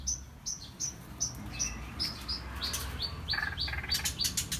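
A straw-headed bulbul (cucak rawa) sings a run of clear, bright whistled phrases that repeat in quick succession, growing busier and more complex toward the end over a low background hum.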